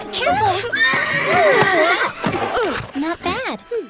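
A restless cartoon horse whinnies loudly and shrilly in a wavering, drawn-out call, closely mixed with excited voices in an animated toy-adventure scene.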